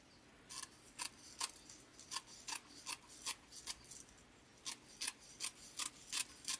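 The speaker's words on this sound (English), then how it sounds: "So I've used this a lot. Okay, so we still have this mesh. I'm going to go ahead and just cut that." Scissors snip through decorative mesh for a summer watermelon wreath, giving a steady run of crisp, quiet cuts at close range with no talking.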